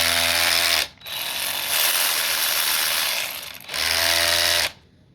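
Cheap cordless 3/8-inch ratchet impact wrench on a 20V Dewalt battery spinning freely, a loud close motor whine with gear buzz in two long runs broken by a short stop, then cutting off near the end.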